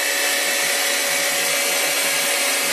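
Monarch EE lathe spinning at speed on a solid-state inverter variable speed drive, a loud continuous machine hum and whir with a steady high tone and faint rhythmic low knocks underneath.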